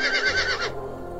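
A horse gives a loud, high whinny lasting most of a second, then trails off into a low rumble, close and alone with no voices.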